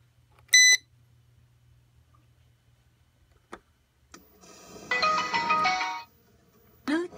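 An electric unicycle powering on gives a short high electronic beep tune near the start, followed by a brief click and a burst of layered tonal chimes with another beep at the end; no one talks.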